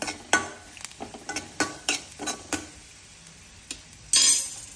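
Dried chillies, cloves and cashews roasting in a pan, with a series of sharp metal taps and scrapes from a spoon over a faint sizzle and a louder scrape near the end.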